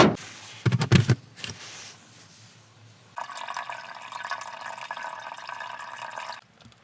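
Liquid pours into a portable grey water tank at the back of a vehicle, a few clunks of handling at first, then a steady trickling, gurgling stream for several seconds that stops abruptly.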